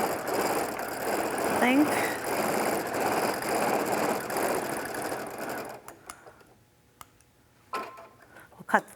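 A domestic sewing machine stitches thread painting on a wall hanging in a rapid, steady whir for about six seconds, then stops, followed by a few short clicks and buzzes of the automatic thread cutter, with someone talking quietly over it.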